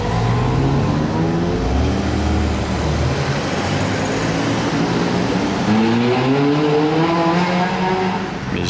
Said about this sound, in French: Ça fait la troisième qui passe par cette rue et qui accélère.